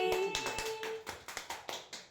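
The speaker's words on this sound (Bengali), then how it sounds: "হাততালি দিচ্ছে সবাই।" At a family anniversary cake cutting, a small group claps hands in a steady, evenly spaced run of sharp claps, moderately faint, after a short tone at the start.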